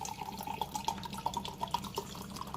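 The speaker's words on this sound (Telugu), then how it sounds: "మనం 3 గ్లాసులు వాటర్ పోసుకోవాలి." Three glasses of water poured into a pan for tomato bath make a quiet, steady stream with light dripping, bubbling tones, close by and without talk.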